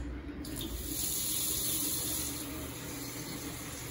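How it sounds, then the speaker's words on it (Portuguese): Water runs steadily from a kitchen tap in a newly finished kitchen, a constant close rushing splash into the sink with no talking. "deixa eu abrir a torneira"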